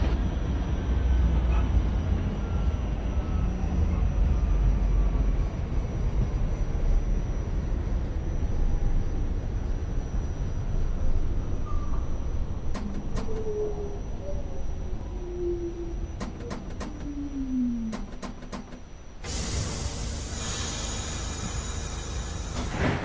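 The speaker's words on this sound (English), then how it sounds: "This is a Brooklyn-bound Q express train." An R46 Q express subway train in the OpenBVE simulator runs with a steady rumbling roar and a motor tone gliding downward. Short clicks follow, then a brighter hiss near the end.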